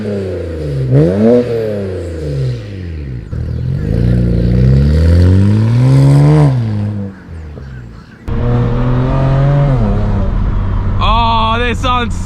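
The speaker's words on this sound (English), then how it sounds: "so I can hear the turbo way more." A 2007 BMW 335i accelerating with a VRSF exhaust, turbo and engine pitch climbing and dropping through repeated pulls, loud and near, while someone speaks excitedly throughout.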